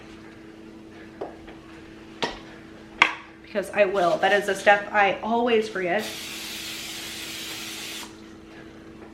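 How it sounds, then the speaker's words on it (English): Cooking spray hisses onto a bread pan in one steady two-second burst in a home kitchen, following a few light clicks and someone speaking. "I'm gonna spray this right away so I don't forget."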